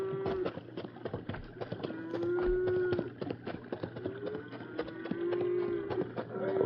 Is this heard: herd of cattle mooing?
yes